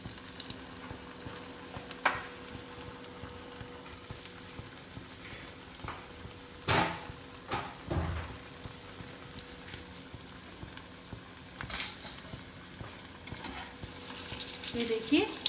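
Potato, corn and cheese tikkis fry steadily in a pan on the gas stove, giving a continuous soft sizzle with a few louder clattering bumps and scrapes partway through.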